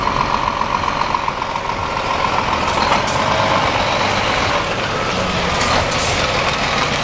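A concrete mixer truck with a continuous loud diesel engine drone, nearby and steady, with faint brief beeps and hiss in the background.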